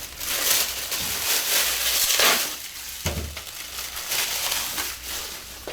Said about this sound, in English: Okay, so unwrap the mesh